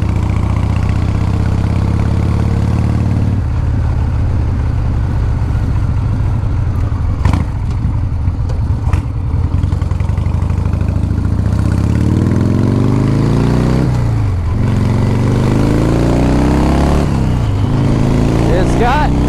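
A 1982 Harley-Davidson FXR Shovelhead with a five-speed gearbox runs close by with a loud, continuous low rumble and a few rising revs and gear-change swells toward the end.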